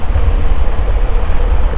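A motorcycle rides along a wet, winding serpentine mountain road, giving a steady, close engine rumble mixed with dense road and wind noise throughout, with no voices.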